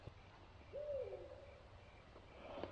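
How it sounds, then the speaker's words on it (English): An owl gives a single soft, low hoot in the wild during an archery elk hunt, faint and distant against quiet outdoor background noise. "You guys hear that? Bunch of owls out here."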